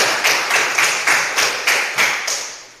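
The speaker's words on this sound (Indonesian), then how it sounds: "Ya, aplaus untuk kita." Applause from a group in a classroom in Indonesia, heard as sharp, evenly spaced rhythmic clapping in unison, about nine loud claps at a steady beat.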